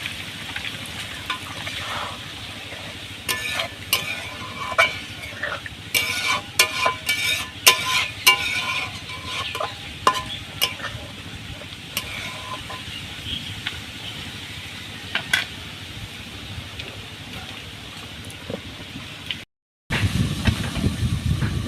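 Eel fish curry simmering in a covered pan after a little water is added, giving a steady frying sizzle and hiss with scattered bubbling pops and crackles, close and continuous before a brief cut.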